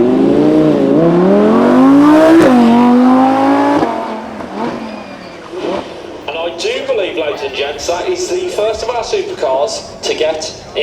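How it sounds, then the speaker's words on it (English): An Audi R8 V10 pulls away from the start line at a supercar weekend, its engine rising in pitch through loud revving gear pulls, then fading with the car heard farther off as a commentator talks over it. "the Audi R8 V10 is all lined up"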